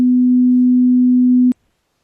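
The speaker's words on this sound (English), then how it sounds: "So here's 250 hertz." A steady 250 hertz sine test tone plays at constant loudness for about a second and a half, then cuts off abruptly, leaving silence.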